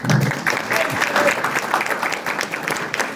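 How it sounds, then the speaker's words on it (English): Steady applause from an audience fills the whole moment, dense clapping without pause, with a little crowd murmur mixed in. "Give them a round of applause."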